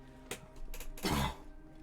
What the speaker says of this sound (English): My cough is not funny